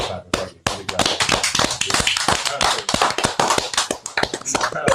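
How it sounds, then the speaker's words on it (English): Hand clapping in a radio studio, a fast, irregular run of sharp, close claps that keeps going for several seconds at a steady loud level. "Keep it clapping. Keep it clapping."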